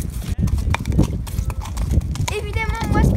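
Ponies walk outdoors, their hooves clip-clopping in a steady rhythm close by while a person talks over them.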